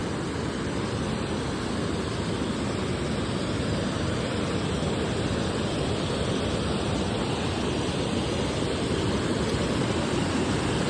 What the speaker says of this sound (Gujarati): બહુ સરસ વોટરફોલ છે.